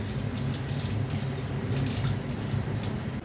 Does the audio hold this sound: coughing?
no